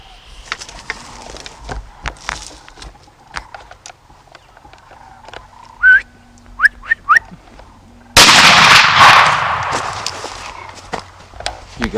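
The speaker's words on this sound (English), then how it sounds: "That's a good shot" A single loud rifle gunshot rings out on an Oklahoma deer hunt for a doe, a sharp crack with a long rolling echo, preceded by quiet rustling and a few short whistles.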